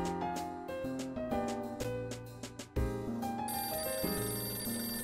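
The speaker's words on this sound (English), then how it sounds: "Oh no, the phone again!" Telephone ringing in the Nintendo DS detective game Hotel Dusk: Room 215, a bell-like tone repeating loudly over steady synthesized game music with layered melodic notes.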